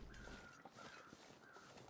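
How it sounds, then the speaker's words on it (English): Crows cawing over a deer carcass on a road in the video game The Long Dark, a few drawn-out harsh calls repeating against a steady windy background. "There's the crows above the carcass on the road"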